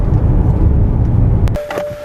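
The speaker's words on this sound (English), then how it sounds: "if you're someone that obviously enjoys the sound of that V10" A 2008 BMW E60 M5 with its V10 engine gives off a loud, deep rumble for about a second and a half, then cuts to a quieter sound with a thin steady whine.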